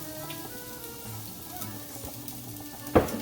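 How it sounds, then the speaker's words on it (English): Onions sizzle in a hot pan over medium heat, giving a soft, steady crackle and hiss at moderate volume, with one sharper clatter near the end. "Hear the sizzle."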